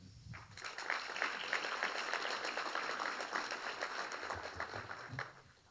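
Audience applause at a gathering honoring a board president and trustees: a dense, steady wash of many hands clapping that swells in quickly, holds at even loudness for about five seconds, then fades out.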